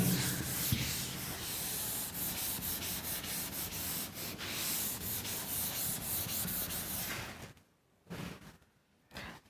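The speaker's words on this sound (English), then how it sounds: "Let me rub these things." Rhythmic rubbing strokes of an eraser wiping writing off a classroom board, loud and continuous for several seconds, then a couple of short final swipes.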